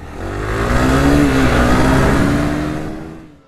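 A Honda CRF300L motorcycle revs and accelerates off-road near a trailhead, its engine note rising loudly and steadily, then fading as it pulls away.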